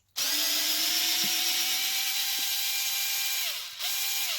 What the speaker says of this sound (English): Just going to undo the two screws that hold the wing in place